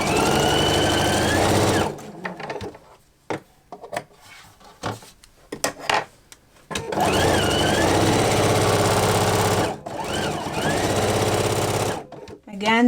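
A sewing machine chain-sews quilt blocks in long continuous runs, its close, steady mechanical whir starting and stopping between pauses filled with handling sounds and a person talking.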